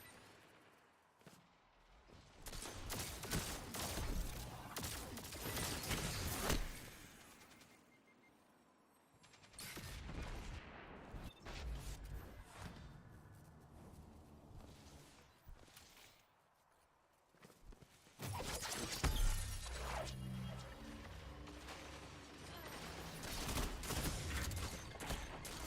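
Bursts of gunfire in a PvP shooter match, loud dense volleys that come and go in waves, with rapid cracks alongside footstep-like clatter and steady game noise between the exchanges.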